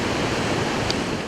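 A waterfall at a cultural site pours as a dense, steady rushing roar of water, close and continuous through the brief moment.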